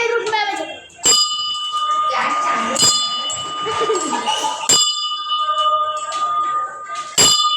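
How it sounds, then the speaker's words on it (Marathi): A prayer bell rings at a Ganpati shrine, four bright metallic strikes with long shimmering tones spaced a couple of seconds apart, close and loud, while voices murmur in between. "चलो अभी हम लोग बजेंगे हमारी घंटा"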